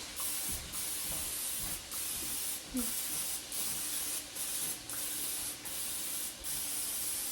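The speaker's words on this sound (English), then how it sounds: "So I'm going to start out by spraying the pan first." Repeated short bursts of cooking spray hiss onto an air fryer pan, about seven quick pulses in a steady rhythm, close and fairly loud, with no talking.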